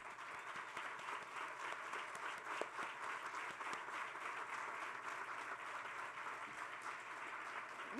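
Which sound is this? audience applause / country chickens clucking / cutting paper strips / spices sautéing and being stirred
audience applause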